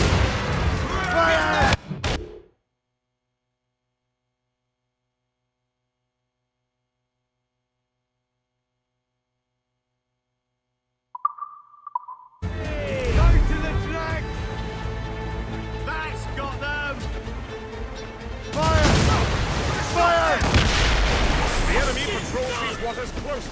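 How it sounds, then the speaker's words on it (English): Naval cannon fire in the video game Assassin's Creed Rogue, booming shots over busy battle noise, with a long stretch of silence in the middle and voices heard in places. "Incoming fire! Fire! Fire!"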